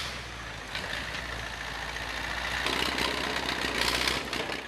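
A tractor stuck in snow in Russian logging country at minus 30 degrees runs its engine hard, a steady loud diesel drone that swells as it strains to pull free.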